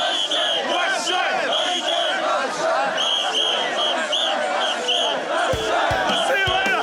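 Dense festival crowd at a Japanese naked man festival, thousands of men chanting washoi in a loud, continuous roar with rhythmic shouted surges and a few sharp knocks near the end.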